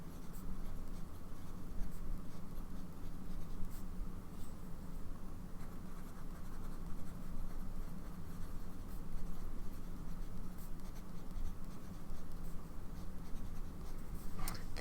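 Fountain pen nib dragging across paper with Van Dieman's Royal Starfish ink, a steady faint scratchy writing texture that runs the whole time without pauses, close up and quiet, with no talking.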